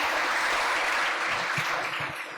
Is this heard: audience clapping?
yes